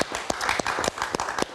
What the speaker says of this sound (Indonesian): Kita kasih tepuk tangan untuk Angel.